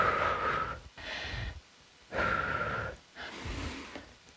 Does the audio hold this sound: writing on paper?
no